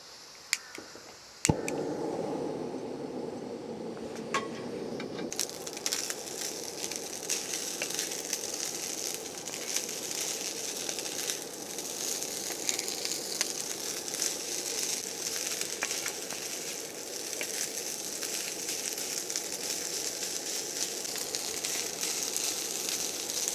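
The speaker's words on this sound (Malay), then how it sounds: "sekarang saya nak panaskan nasi goreng malam tadi tu" Leftover fried rice sizzles steadily as it reheats in a pan on a small camp stove at a rainy campsite, a continuous close frying crackle after a sharp clack at the start.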